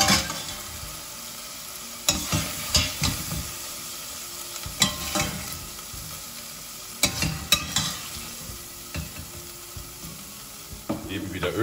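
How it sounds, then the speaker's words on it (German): Lamb meat searing hard in a pot with oil for a ragout, a constant close sizzle and fry broken by bursts of stirring and scraping of a utensil against the pot, with no talking. "Wenn das Fleisch scharf angebraten ist, nehmen wir das Fleisch wieder aus dem Topf."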